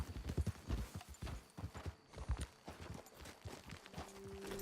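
Steady clip-clop of horse hooves walking close by in Red Dead Redemption 2, an even rhythmic beat with a brief low tone near the end.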